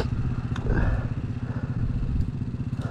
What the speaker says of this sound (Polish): To jest cały nasz skuter.